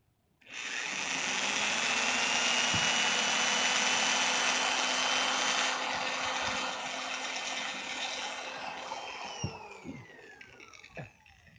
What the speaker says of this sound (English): start drilling the holes.